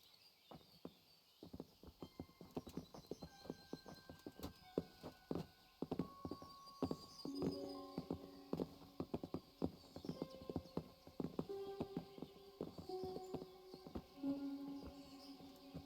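Horses in the medieval video game Kingdom Come: Deliverance trot with crisp, rapid clip-clopping hooves, close and sharp, and a whinny cuts in; tinkling game music plays underneath.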